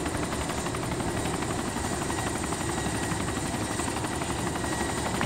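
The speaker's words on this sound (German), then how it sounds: "zum ersten Mal Heli geflogen." Helicopter in flight in the video game DayZ, a continuous whirring rotor chop with fast regular pulsing and a constant engine hum, loud and steady with no voices.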